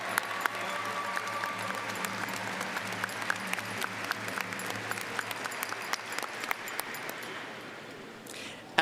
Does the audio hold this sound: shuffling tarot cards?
no